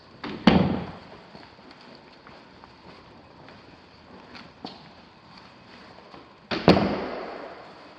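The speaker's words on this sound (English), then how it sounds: "shutting all of our doors" Two sharp door slams ring out a few seconds apart, each with a short echo, separated by quieter thuds and room noise.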